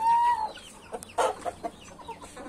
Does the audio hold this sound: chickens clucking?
yes